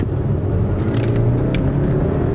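A BMW 420i's 182-horsepower engine pulls steadily under acceleration, a close, continuous low rumble with a rising tone heard from inside the car, no talking over it.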